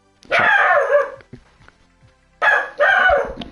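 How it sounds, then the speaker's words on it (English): A dog barks in two loud bursts, the second a doubled volley, with a quieter gap between them, sounding close by indoors. "My dog is barking."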